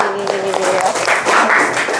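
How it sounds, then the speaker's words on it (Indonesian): Classroom applause for a student, dense broadband clapping filling the whole two seconds at close range, with children's voices and chatter mixed in. "Tepuk tangan buat Trisi."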